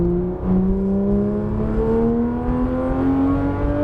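A Porsche 993 GTS RS engine at full throttle on a cone-marked track course gives a loud, continuous howl that climbs steadily in pitch as it accelerates, with no voices over it.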